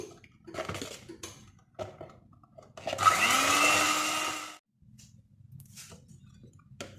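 An electric mixer whipping cream with sugar, a loud buzzing whir that starts up, holds for about a second and a half, and then cuts off, with quieter clinks and kitchen handling before and after.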